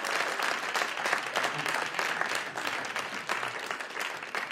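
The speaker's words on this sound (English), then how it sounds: "let's give Decker a round of applause" A conference audience at a summit session gives a round of applause, a continuous, even patter of many hands heard at moderate level throughout.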